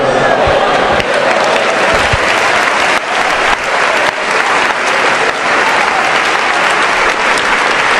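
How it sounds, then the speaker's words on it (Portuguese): Loud, sustained applause from a church congregation at a sermon event, a dense wash of clapping filling the whole stretch with brief dips, no speech over it. "Você aplaudiu porque você pensa que terminou"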